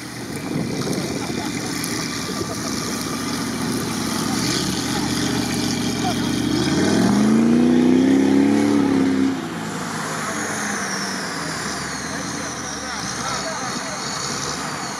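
An off-road vehicle, still hitched up in a wet canal-side off-road setting, has its engine cranked and started, rising into a rough revving swell midway before settling back to a lower rumble, with voices talking around it.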